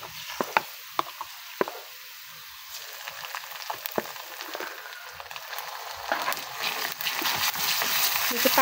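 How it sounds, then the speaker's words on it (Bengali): Ginger garlic paste goes into a pan of fried onions with cardamom and cinnamon, a few crisp taps and clinks first, then a rising, steady oily sizzle that grows louder toward the end. "এর মধ্যে দিয়ে দেব আদা রসুনের পেস্ট।"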